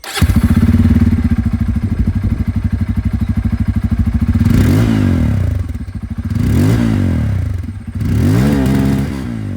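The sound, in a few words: Bajaj Pulsar N250 motorcycle dual exhaust sound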